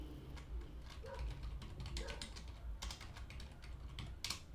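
Typing on a computer keyboard while naming a spreadsheet in Google Sheets: quiet, quick irregular key clicks in short bursts, with a few firmer taps, close but faint, and no talking over them.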